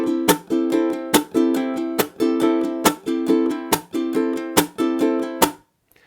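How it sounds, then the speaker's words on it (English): Ukulele strummed with the chunk technique: bright ringing chords cut off repeatedly by sharp, muted percussive slaps in a steady, snare-like rhythm, close and clear, ending in silence. "One of the most unique techniques to the ukulele is called the chunk."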